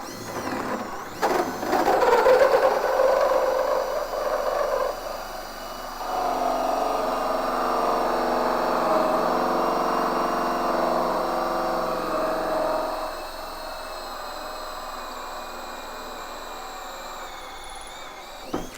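A Vevor saw tooth hole saw on a drill grinds through a 16D nail, giving a sustained, close whining and grinding drone that starts with a rough bite, holds steady for several seconds, then winds down, with no speech.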